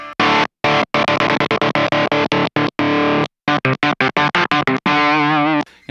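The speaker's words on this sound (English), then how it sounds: "It's a really great way to just cut your guitar sound off" Distorted electric guitar chopped on and off with a kill switch in quick rhythmic bursts, creating a loud stuttering effect with abrupt silences between hits.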